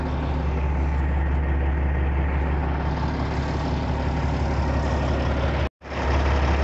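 A stuck flatbed truck idles with a continuous, loud low engine drone and broad rumble, steady throughout before a brief sudden dropout near the end.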